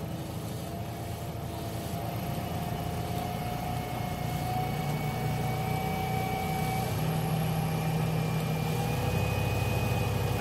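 DC motor in a lab, running at its rated speed around 2000 RPM, giving a steady, continuous hum with a faint high whine, unchanging and close throughout with no talk.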